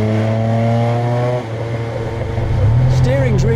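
A DeLorean's engine drones steadily while driving, a low harmonic hum that dips briefly and then rises as it pulls again, heard from inside the car beneath someone talking.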